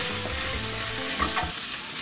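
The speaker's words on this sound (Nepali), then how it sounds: "यसलाई राम्रोसँग खैरो हुने गरेको भुट्ने" Garlic browning in hot oil with cumin and ajwain seeds, a steady close sizzle with a few soft stirring scrapes, no voices.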